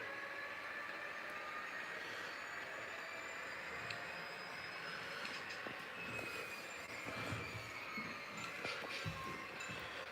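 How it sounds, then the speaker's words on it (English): An HO scale model train pushes a broken-down locomotive toward a roundhouse, giving a steady, continuous rolling rumble with faint metallic wheel squeals and light clicking that carry on for the whole stretch, no voices. "Now it's pushing the broken down locomotive into the roundhouse."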